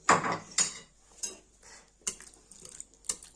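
A spoon stirs crushed garlic into yogurt in a bowl, giving a few sharp clinks and soft scrapes at irregular intervals, close up with quiet gaps between strokes.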